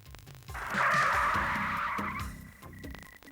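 A car skids to a stop on a bridge, its tyres giving a loud, sustained screech of about a second and a half over the low engine rumble, which then idles on afterwards.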